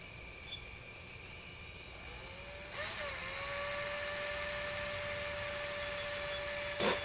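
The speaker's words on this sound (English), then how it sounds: "So I'm going to see if I can drill a hole through this ceramic." A power drill whines steadily while boring a hole through a ceramic piece for an electric kiln, its pitch dipping then holding under load, with a constant motor drone beneath.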